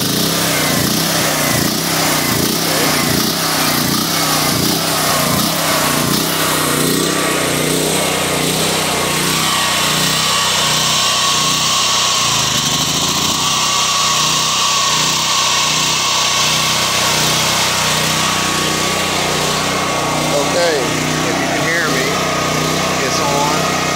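Duromax XP13000E portable generator engine cranking, catching and then running steadily, a loud continuous mechanical drone with some variation partway through, with a person talking over it.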